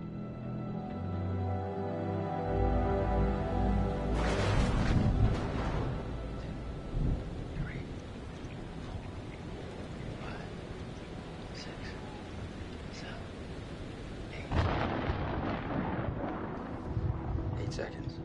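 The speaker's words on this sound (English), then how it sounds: "The storm's 8 miles away." A thunderstorm in the Man of Medan video game brings deep rolling thunder that swells and rumbles on with a broad roar of storm noise, under game music and voices.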